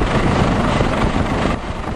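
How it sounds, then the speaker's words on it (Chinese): A rescue helicopter hovers over the sea off a sandbar during an air rescue of stranded anglers, its steady loud rotor roar mixed with wind buffeting, continuous and close throughout. "直升机不断地在天空盘旋，救难人员在空中摇摇晃晃"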